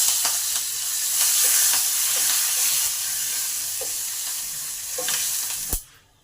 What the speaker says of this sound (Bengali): এবার সর্ষেটাও দিয়ে দিলাম, আমার কাছে সাদা সর্ষে আছে, আপনারা কালো সর্ষে দিতে পারেন। এবার কারি পাতাটা দিয়ে দিব,